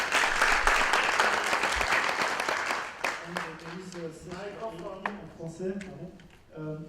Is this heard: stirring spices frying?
no